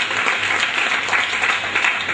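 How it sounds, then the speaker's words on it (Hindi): Audience applause at a Hindi comic poetry gathering (hasya kavi sammelan), a dense, steady wash of many hands clapping continuously at moderate loudness with no voices over it. "दोस्तों ताली वाली बजाओ जरा"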